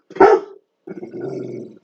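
A dog gives one sharp, loud bark, then after a short pause lets out a lower, rumbling growl that lasts for about a second, close by.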